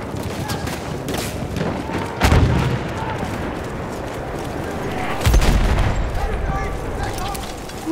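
Enemy big-gun artillery fire in a Battlefield 1 Conquest match: two heavy booming blasts spaced a few seconds apart stand out above constant gunfire and battle clamor, with voices calling out.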